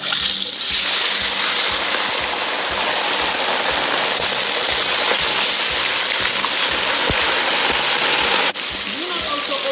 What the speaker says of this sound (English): I'm going to start frying the fish